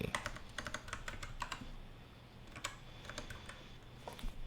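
Quiet, rapid typing on a computer keyboard, with many crisp key clicks in uneven bursts and a brief lull midway, close to the microphone and with no talking.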